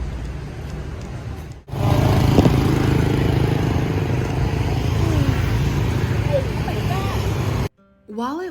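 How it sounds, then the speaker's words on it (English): Busy Hanoi street traffic with motorbikes rumbles steadily nearby, engines droning and passing under scattered voices, with a brief break near the end. "I will say I'm very impressed by how traffic and the motorbikes seem to flow around each other."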